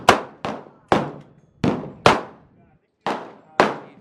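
Seven sharp, loud reports from a 20 gauge shotgun at a shooting range, spaced roughly half a second apart, each decaying quickly, with no talking.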